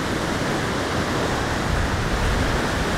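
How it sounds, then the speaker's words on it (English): A waterfall in Yellowstone National Park in winter roars as a dense, steady broadband rush, constant and fairly loud throughout, with no voices. "This is a straight waterfall."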